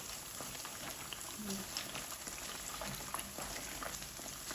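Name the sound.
semolina and potato snacks deep frying in oil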